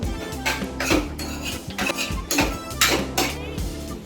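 Rice is added to a mixture in a pan with the stove switched off, bringing a series of close metallic clanks and scrapes of a utensil against the pan in irregular bursts.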